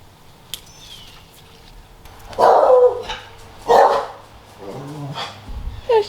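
A dog barking outdoors on a Florida summer morning, two loud close barks a second or so apart, then softer yips and whines.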